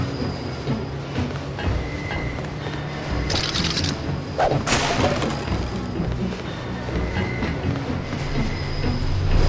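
Train ride in the Deus Ex game: a steady, loud rumble of a rolling rail car with a brief metallic squeal and clatter in the middle, continuous throughout.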